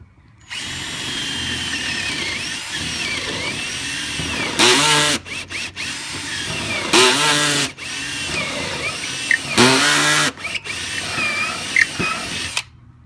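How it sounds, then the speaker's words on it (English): A Ryobi power drill whines in repeated bursts as it bores into wood, each run ending in a rough, grinding surge before stopping. "when you're drilling, you keep drilling down, and then you have to pull it back out"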